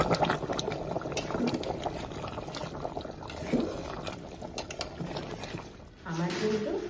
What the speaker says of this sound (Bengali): এবার আমি মাংসে জল দিয়ে দেবো